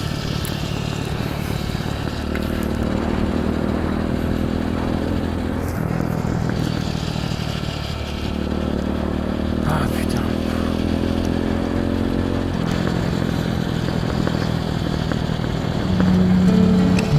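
A Kawasaki KLX 110 motorcycle being ridden sounds as a close, continuous engine drone that rises and drops through several gear changes.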